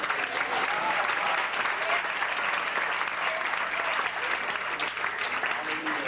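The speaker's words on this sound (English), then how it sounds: "Let us receive him with a round of applause" Steady, full applause from a church congregation welcoming a bishop at a convocation, dense clapping sustained at even loudness throughout with a faint crowd murmur underneath.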